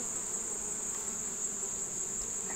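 Honeybees in an opened hive give off a steady, even buzz, faint and continuous with no talk.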